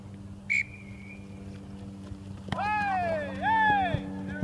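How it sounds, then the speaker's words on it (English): A short, sharp referee whistle blast sounds once during International Rules football training outdoors, with players shouting and a steady background hum. "Wait for the whistle."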